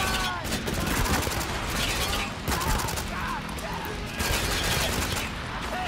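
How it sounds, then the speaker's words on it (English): Continuous gunfire and explosions rattle through a battle in the video game Spec Ops: The Line, a dense, loud barrage of overlapping shots with no clear pauses. "Hey, where are they shooting at?"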